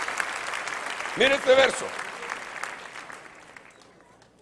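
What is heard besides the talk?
church congregation applauding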